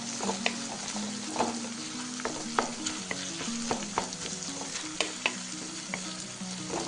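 Onions and salt stirred in a frying pan for a Kashmiri fish curry, giving a steady close sizzle with repeated scraping strokes of the spoon against the pan throughout, and no voices.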